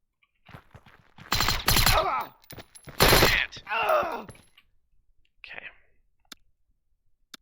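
Sniper rifle shots in the tactical game Door Kickers 2, two loud sharp bursts with rattling tails, followed by a few fainter clicks and a small thud before silence.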